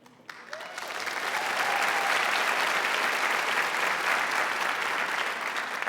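Conference audience applauds a presenting sponsor at an opening session, the clapping building quickly from a few hands into a loud, dense, sustained ovation that holds steady to the end.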